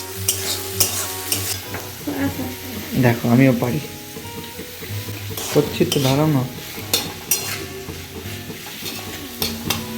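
Vegetables for chowmein being stir-fried in a pan give a steady sizzle, with repeated scraping and clanking of a spatula against the metal. People talk over the cooking now and then.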